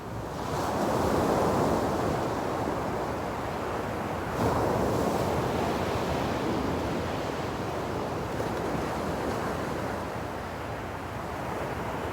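Ocean surf rolls and washes onto a beach in a continuous broad roar, swelling gently as waves break. Wind rumbles against the microphone throughout, and no one speaks.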